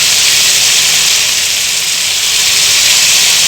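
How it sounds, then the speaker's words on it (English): Pieces of chicken tikka fry in oil with a loud, steady sizzling hiss that stays close and even throughout, with no talk over it. "Here also I have used only oil for frying the chicken tikka."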